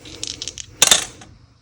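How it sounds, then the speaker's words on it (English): Dice clatter and tumble into a container, a few light rattling taps followed by a louder burst of rolling clicks that quickly settles, close and fairly quiet. "trying to roll the dice everywhere, I am going to roll them in there"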